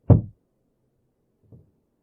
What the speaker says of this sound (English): a loud knocking coming from the other side of the wooden door